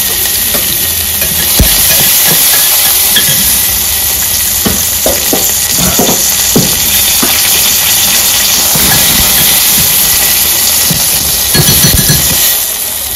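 Onion frying in a hot tadka of cumin and hing, a loud steady sizzle broken by repeated scraping and stirring knocks from a spoon in the pan, with no voices.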